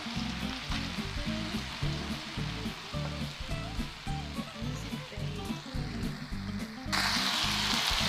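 Garlic fries with bacon in a pan for pasta amatriciana, a steady close sizzle and crackle with a brighter hiss surging near the end.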